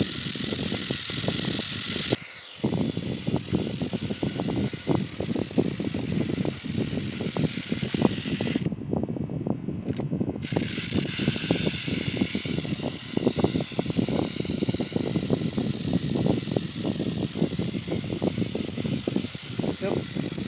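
Trackmaster Charlie, a toy train engine, running along its track with a steady, buzzing motor whir and rapid clicking of wheels over rail joints, close by and continuous apart from two short breaks.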